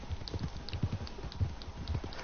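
Horse hooves gallop in the Red Dead Redemption 2 video game, a steady rapid clip-clop rhythm close up and moderately loud with no talking.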